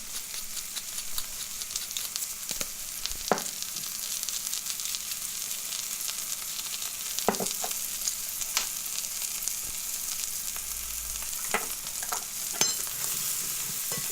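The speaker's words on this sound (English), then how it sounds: "just keep stirring, making sure that the mushrooms are evenly coated in that butter and just nicely braised" Mushrooms frying in butter in a pan give a soft, steady sizzle, broken by occasional sharp scrapes and taps of a utensil as they are stirred, close up and without talking.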